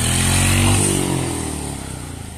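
Motorbike engine riding in Baglung near Panchakot, a close, loud droning hum that rises briefly in pitch as the throttle opens, then settles and fades slightly as the bike moves on, with faint rattling underneath.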